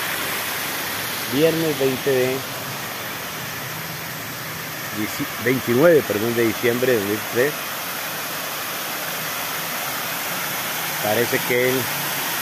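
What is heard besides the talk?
Cañaveralejo river flowing in the morning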